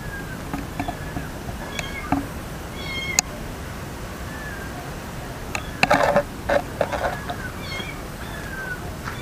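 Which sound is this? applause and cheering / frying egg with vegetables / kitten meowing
kitten meowing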